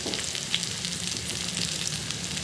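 A raw banana fry sizzles in a pan with chili powder added, giving a steady, close, continuous frying hiss with no voices.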